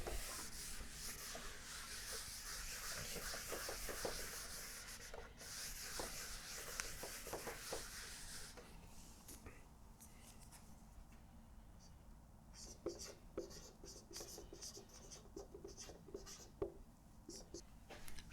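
Chalk or pen writing on a board during a mathematics lecture, quiet scratchy strokes and taps in irregular bursts, with faint room noise and occasional sparse speech.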